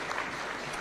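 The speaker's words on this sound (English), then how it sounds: "A round of applause please." Audience applause at a Taxpayers Day award ceremony at State House, Kenya, following a Top Exporter award; a short burst of steady, dense clapping from a crowd with no other voices.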